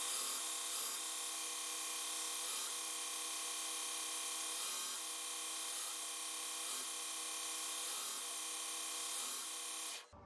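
A santoku kitchen knife blank being sanded on a power sander, a steady, loud whirring whine that holds for about ten seconds with faint periodic pulses, then cuts off abruptly at the end.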